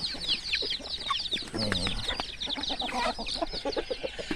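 Hens clucking and squawking close by while being fed calcium, busy overlapping calls throughout, with occasional low voices in the background.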